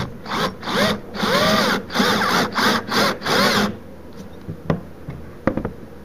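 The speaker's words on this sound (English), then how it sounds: "I'm going to take my screw, and I'm going to set it right up there on that anchor, and then I'm going to slowly screw it in place" Cordless drill driving a screw into a hollow wall anchor, several short whirring bursts with grinding rubs, followed by faint clicks and taps once the screw is seated.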